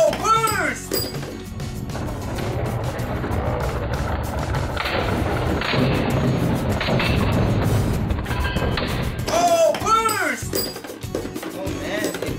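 Spinning Beyblade Burst tops, a Takara Tomy and a Flame brand Guilty Longinus, battle in a plastic stadium, giving a continuous scraping whir with sharp clinks and clacks from collisions, and people speak briefly near the start and the end.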